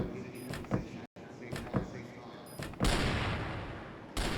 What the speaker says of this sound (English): Some shots out here.